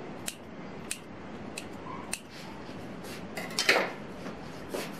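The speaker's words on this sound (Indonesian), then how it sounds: "Selanjutnya digunting setelah diletakkan, digunting ya seperti ini. Guntingnya menyamping." Kitchen scissors cut chicken bread dough, giving a series of light, crisp snips spaced at intervals with a busier clatter near the end, close and without talking.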